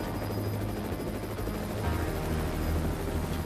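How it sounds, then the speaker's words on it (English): A Huey helicopter in flight in a movie scene, a dense, continuous rotor throb with low thudding pulses filling the whole stretch, loud and steady, no voices. "That's a Huey."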